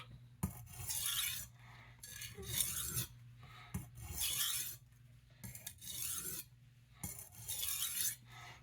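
Eight-inch Sabatier chef knife from France drawn across a finer-grit whetstone, giving a series of rhythmic raspy scraping strokes, each about a second long with short pauses between, close and fairly quiet.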